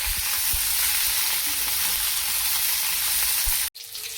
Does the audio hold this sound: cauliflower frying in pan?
yes